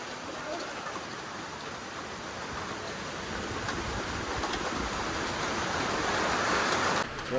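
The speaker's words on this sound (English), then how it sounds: "This is a mighty rain." A mighty downpour falls at Winifred Beach, steady broadband rain hiss that swells slightly louder toward the end, with no clear talk over it.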